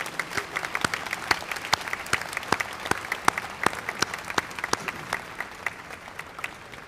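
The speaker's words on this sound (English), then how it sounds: "a round of applause to our alumni for their support and continued support" At a high school graduation ceremony, a crowd claps steadily for several seconds, with sharp individual claps standing out over a dense patter.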